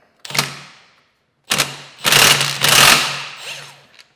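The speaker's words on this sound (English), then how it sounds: "I'm going to use a cordless impact, right?" A cordless impact wrench takes off the clutch nut on a 2018–2023 Kawasaki Ninja 400: a short first burst, then a pause, then several loud hammering rattles close by, each ending in a quick stop.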